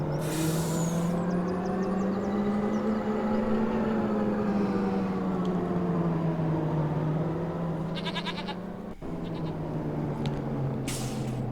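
A farm vehicle drives steadily in Farming Simulator 25, its engine droning with a smooth, slowly wavering pitch, with short hissing bursts at the start and near the end and a brief dip around nine seconds.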